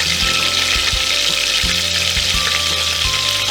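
Whole spices sizzle loudly and steadily in hot ghee: bay leaf, cinnamon sticks, cloves and cardamom. A dense frying hiss runs throughout, with a few soft knocks of a spoon stirring the pan, and no voices.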